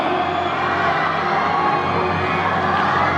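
A loud pageant crowd cheers and shouts continuously at the moment a beauty pageant winner is announced, with whoops and children's yells in a dense, sustained roar.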